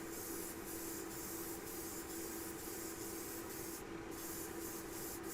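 Airbrush spraying thin coats of Vallejo black primer at a low, gentle valve setting: a steady close hiss of air that holds evenly throughout, with faint rhythmic pulses and no talk.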